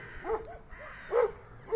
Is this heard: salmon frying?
no